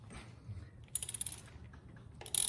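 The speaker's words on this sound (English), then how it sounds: "So now you're going to take your 3/8 socket head with your 3/8 ratchet" A 3/8 ratchet loosening the primary drain bolt on a Harley-Davidson Dyna Street Bob makes a quick series of crisp clicks, then a short closing burst, faint and close with no speech.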